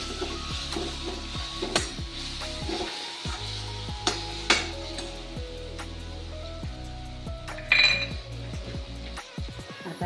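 Ginger garlic paste with red chili sauce sizzles in a pan while being stirred, a steady fry under frequent clinks and scrapes of a utensil against the metal.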